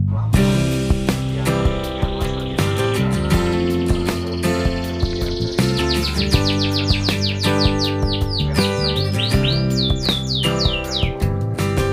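Scotch Fancy canaries sing loudly and close, with continuous warbling trills and rapid repeated chirps layered over a busy aviary chorus, no talking.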